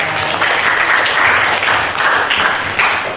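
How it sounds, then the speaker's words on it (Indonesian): A classroom audience applauds a student named Nopal during a school session on positive school culture, giving steady dense clapping for about three seconds with no talk. "Oke, tepuk tangan untuk Mas Nopal."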